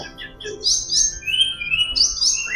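A caged oriental magpie-robin (kacer) gives bright, clear whistled song phrases in a few bursts, fairly close, with faint background rustle and no talk.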